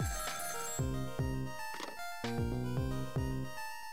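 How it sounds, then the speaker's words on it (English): A telephone rings in the video game Ghost Trick, a bright electronic trill repeating in quick rhythmic bursts about every half second over four seconds, close and clear with no talk. "Alright, this phone's going off."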